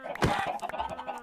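Chickens in Minecraft cluck in short, close, clipped bursts, several quick calls in a row, with a louder squawk near the start.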